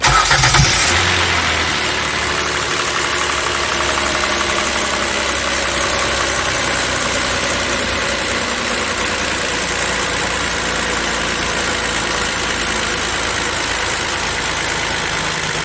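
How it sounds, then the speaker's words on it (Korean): A Kia Opirus GH330 engine with low power and a squeal at startup cranks and catches, then settles into a steady, loud idle with a constant low rumble and mechanical hum, no voices. "작업 전에 엔진 소음을 좀 들려드리고"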